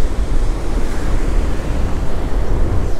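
Ocean surf breaking at a beach during a fishing outing, a steady loud wash of waves with wind buffeting the microphone throughout, no voices.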